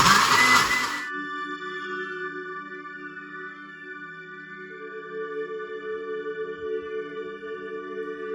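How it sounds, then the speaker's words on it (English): A blender whirs steadily after a short loud burst at the start as it mixes a strawberry and blueberry yogurt shake with vanilla essence, with a sustained motor hum and a pitch shift partway through, and no talking. "pop it on your blender."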